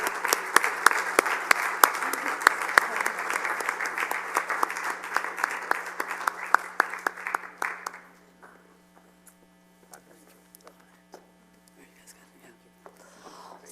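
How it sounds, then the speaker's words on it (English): Audience applause at a community panel on the Iranshah Initiative, dense and steady for about eight seconds before dying away to scattered claps and murmurs over a low mains hum. "Give him a round of applause, please."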